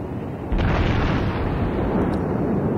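Secondary guns on a Saint Louis class cruiser firing in World of Warships, a loud sudden boom followed by sustained rumbling blast noise, close and heavy, no voices.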